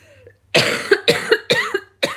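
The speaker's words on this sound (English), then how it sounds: "Sorry, my cough's really bad." A burst of several harsh coughs in quick succession, close and loud, with brief pauses between them and one final cough after a short gap.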